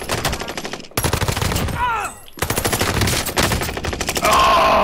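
Rapid automatic gunfire in Call of Duty: Modern Warfare, loud and close, with bursts broken by brief pauses and a man's groan in the middle.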